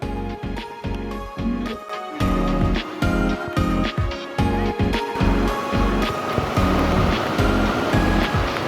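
A rushing hill stream on the forest trail to Napittachora waterfall in Mirsarai, Chittagong, makes a loud, continuous churning of water with surging pulses, heard up close without talk.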